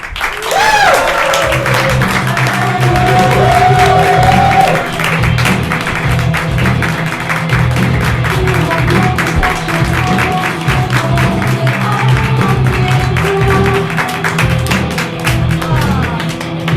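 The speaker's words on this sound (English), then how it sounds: "So let's all cheer in our Hideout marathoners." Audience at a live improv marathon show claps and cheers, a dense, loud, sustained wash of applause with shouts throughout, voices mixed into the crowd noise.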